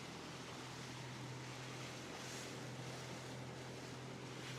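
A small jon boat runs on a coastal Georgia river, giving a steady engine drone with a low hum under constant wind and water rush that stays unchanged throughout, with no talk.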